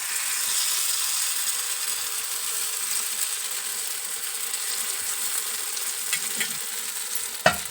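Masala paddu made from leftover dosa batter fries in oil on an iron pan, giving a steady bright hissing sizzle, with a sharp utensil clack near the end.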